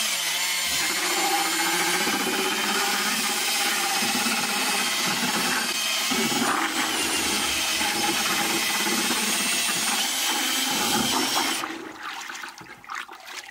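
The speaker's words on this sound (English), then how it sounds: "You're going to run the paint mixer right inside the bucket until it's mixed evenly" A drill with a paint mixer attachment churns glaze inside a bucket, a loud continuous whirring and sloshing that runs steadily before cutting out near the end.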